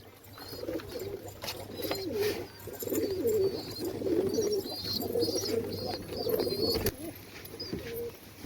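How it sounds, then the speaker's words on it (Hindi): Pigeons coo repeatedly in low, throaty bursts close by, with faint chirps and outdoor background noise around them. "सागर भाई क्या कर डाला, कबूतर उड़ के सामने वाली बिल्डिंग पे जाके बैठ गया।"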